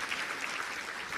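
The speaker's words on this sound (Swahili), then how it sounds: "Piga makofi mengi sana kwa Mheshimiwa Rais tafadhali" Audience at a Tanzanian government ceremony in Dodoma clapping for the President, a dense, even patter of many hands heard from a distance, soft and continuous.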